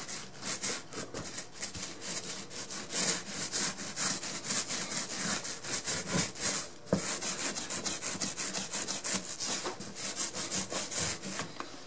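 A paint roller works luminous ALR gamer paint onto a dirty, unprimed wall, making a continuous rhythmic rasping and scrubbing that repeats in strokes, close and fairly loud.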